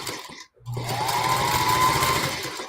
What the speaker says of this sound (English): You leave the needle down on a sewing machine and turn the corner.